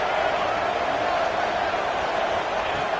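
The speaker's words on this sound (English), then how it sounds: "And here comes the noise. This crowd is trying to inspire this defense to make a big red zone stop." A football stadium crowd roars to rally the defense during a red zone stand, a thick, steady wall of noise that holds at an even level from start to finish.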